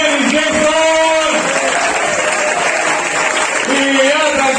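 A stand-up comedy crowd at River Pub in Zagreb keeps up loud, dense applause, mixed with cheering and whoops, steady throughout the whole stretch.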